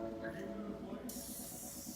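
Iwata spray gun spraying cleaning product onto a car, a sudden sharp hiss of compressed air and mist that starts midway and holds steady, close and fairly loud over a quieter background hum.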